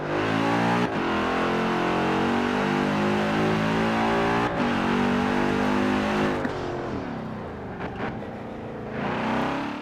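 Aston Martin twin-turbo V8 in the racing game Forza Horizon 4, a steady loud engine roar holding and shifting pitch, with brief gear-change dips and a drop in revs near the end before climbing again, no voices.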